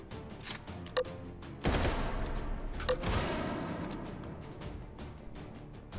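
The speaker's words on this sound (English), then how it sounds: "We're just gonna grenade launcher these fools." An underbarrel grenade launcher fires in the VR shooter H3VR, giving sharp reports followed by a loud, sustained blast that rumbles and slowly decays, with scattered clicks and shots around it.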